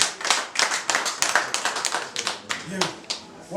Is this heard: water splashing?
no